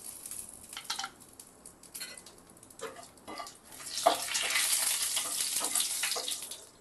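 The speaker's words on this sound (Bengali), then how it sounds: "সর্ষের তেল গরম হয়ে গেছে, দিয়ে দিচ্ছি একটা শুকনো লঙ্কা, 2টো তেজপাতা আর একটু কালো জিরে।" Dried chilli, two bay leaves and nigella seeds dropped into hot mustard oil in a frying pan, scattered crackles and pops at first, swelling into a steadier hiss of sizzling, fairly quiet and close, with no speech.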